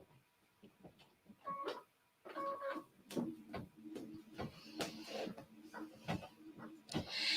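An embroidery machine stitches a mylar tack-down line and a decorative fill, giving a quiet, irregular series of mechanical taps and whirring bursts that come close together, with no talking.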